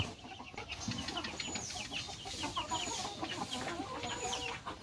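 A flock of chickens clucks and chatters continuously, close by and fairly loud, with occasional higher squawks mixed in, as vaccine-mixed water is given to them.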